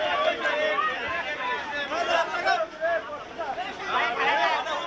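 Passengers bustle at Habibpur launch ghat in Bangladesh, a dense babble of many voices and shouts with crowd movement, close and continuous.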